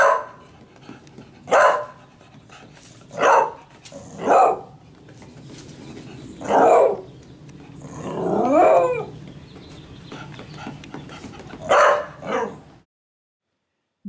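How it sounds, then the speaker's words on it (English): A dog barks sharply several times at irregular intervals, with one longer, howl-like yelp in the middle, fairly close against a quiet background. "Dogs."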